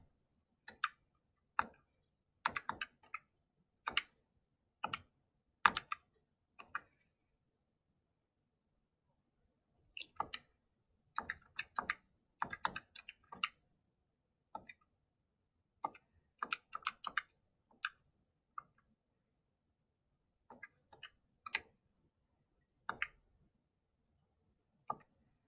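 Calculator keys pressed in quick irregular bursts: crisp, close, light clicks in clusters with short pauses between them. No one talks.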